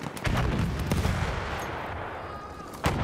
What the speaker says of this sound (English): Who's shooting us from over here?